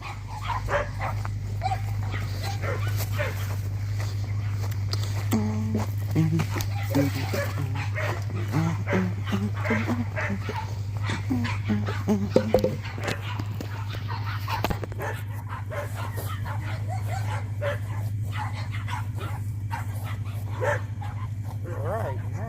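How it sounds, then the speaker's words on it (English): Several dogs in a yard bark back and forth at the neighbouring dogs in a steady, excited stream of yips and barks at middle distance, over a constant low hum, while a person talks nearby. "there goes our dogs having a heated argument with the neighbor's dogs."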